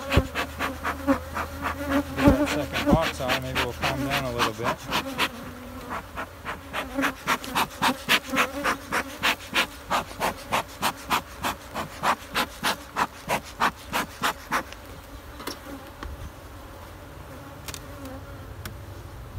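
Honey bees from a testy hive hum in a dense, steady drone close by while a separate insect buzz pulses rhythmically against it for several seconds before fading, with no speech.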